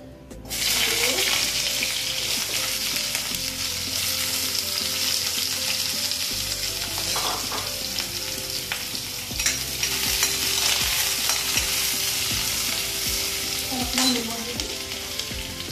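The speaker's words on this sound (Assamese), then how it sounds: "আলুকেইটুকুৰা অকণমান ভাজি ল'বলৈ" Steady loud sizzling of potato pieces frying in oil throughout, with occasional scrapes and stirring clatter; no talking.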